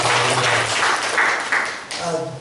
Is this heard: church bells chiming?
no